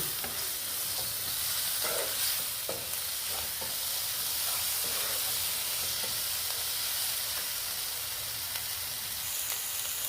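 Dried loitta fish is stirred and fried in a pan with a continuous sizzle and hiss, and scraping stirring strokes come through now and then with no talking.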